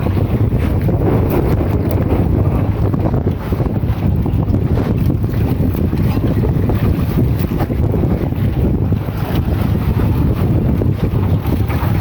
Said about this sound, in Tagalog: Dahil malakas masyado yung hangin.